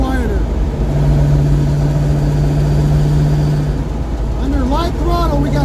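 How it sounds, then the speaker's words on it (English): A car cruises at highway speed with a rebuilt Ford 8.8 rear axle, a loud steady engine and road drone inside the cabin with a thin, sustained whine riding on top; a brief higher sound appears near the end. "Light throttle, we got a little bit of a whine, but overall, that is definitely much quieter."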